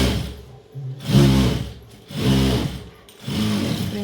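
A sewing machine stitches a blouse close by, running in three whirring bursts of a few seconds each with brief pauses between them and no speech.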